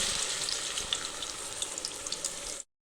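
Ground paste sizzles and crackles in hot oil in a kadai, a loud, even hiss with small pops that continues for about two and a half seconds, then cuts off abruptly.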